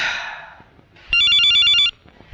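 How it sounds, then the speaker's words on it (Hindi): A telephone bell rings in one short electronic burst after a quiet moment, fairly close and clear. "ये किसका फोन आ गया?"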